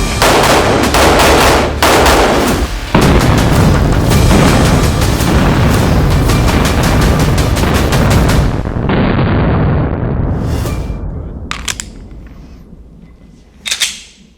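Rapid, loud gunshots from a Smith & Wesson M&P9 M2.0 Metal Comp 9mm pistol at a shooting range ring out in a dense string of cracks, then trail off into echoing reports and a few final sharp shots.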